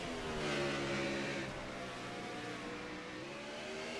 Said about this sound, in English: You can hear the downshifting there going into the corners.